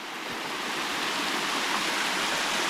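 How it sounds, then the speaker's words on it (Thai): A forest waterfall of clear water pours in a steady, dense rush that fills the whole scene at close range, with no voices. "อันนี้เป็นน้ำตกนะครับ"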